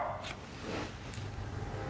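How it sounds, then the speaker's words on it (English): Basset hounds bark a few times at a distance, faint and muffled yaps under a steady low background hum. "Hear the Bassets?"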